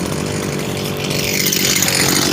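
A Stihl FS 250 gas string trimmer engine runs loud and close, with a steady, buzzing two-stroke drone throughout and no other sounds.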